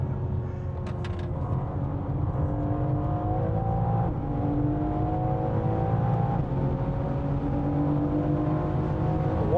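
A rare Bovensiepen Zagato BMW M4, one of only 99 built with extra power, accelerates hard at high speed, its engine note rising steadily with gear-change dips, loud and continuous with tire and wind roar underneath.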